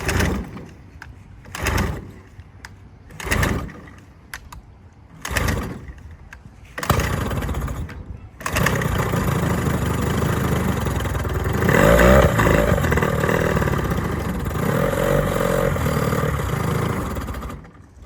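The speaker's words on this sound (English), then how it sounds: "as y'all can see, the motor ran" An old outboard motor on a jon boat, unused for over five years and fed fresh gas, is pull-started several times with brief sputters, then catches and runs steadily, loud and close for the remaining seconds.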